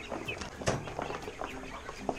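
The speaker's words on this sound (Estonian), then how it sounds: "kukkede kari on siin" A flock of roosters and hens on a farm cluck and squawk in scattered, overlapping calls, some close and sharp, others softer in the background, with no talking.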